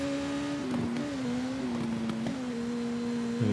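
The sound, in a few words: superbike engine accelerating in TT Isle of Man video game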